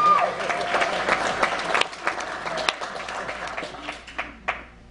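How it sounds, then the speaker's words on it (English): Guests at a wedding reception clap during a best man's speech, a modest burst of applause from a room of people with sharp individual claps standing out and fading unevenly, with some voices and laughter mixed in. "You can applaud."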